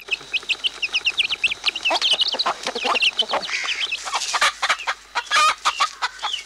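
Guinea fowl on a farm give repeated sharp clucking and chattering calls, several birds close by, with fast overlapping rhythmic bursts and no talk.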